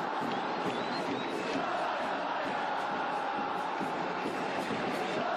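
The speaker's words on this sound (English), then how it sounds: "Just top 10 crowd fan chants?" Brazilian league football fans chant and roar in a stadium, a dense, continuous crowd wash at moderate distance without clear breaks.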